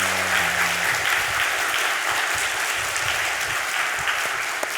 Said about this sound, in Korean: 마음 담아서 정말 수고했다고 생각하는 만큼만 박수를 치세요